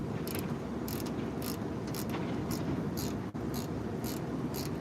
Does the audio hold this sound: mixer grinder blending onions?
no